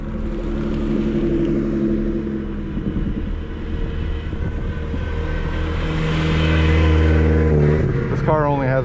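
Engine of a 1999 BMW M3 on a race track, heard from the cabin as it accelerates: a loud, steady drone rising in pitch, swelling louder toward the end, then a quick rev change at the finish.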